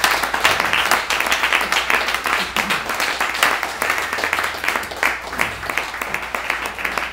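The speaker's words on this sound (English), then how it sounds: "a moment of applause for a truly, truly courageous woman" An audience applauds steadily in remembrance of a courageous woman, dense clapping from many hands holding at an even, sustained level throughout without a break.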